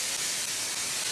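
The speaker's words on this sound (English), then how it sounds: "I'm going to go ahead and spray the tops of them with some cooking oil" Cooking oil sprays from a can onto the tops of food before baking, a single close, steady hiss lasting about a second.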